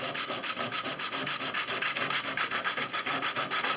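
Rhythmic rubbing as yellowed plastic on an electrical outlet is polished, a steady back-and-forth scrubbing about three strokes per second, close and even, with no voices.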